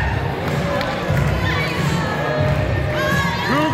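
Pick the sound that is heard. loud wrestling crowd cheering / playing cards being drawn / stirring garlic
loud wrestling crowd cheering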